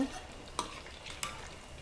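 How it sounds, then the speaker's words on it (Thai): Quiet, steady sizzle of battered pork belly frying in oil over medium heat, with a couple of brief crackles and pops standing out from the hiss. "ทอดไฟกลางๆไปนะคะ"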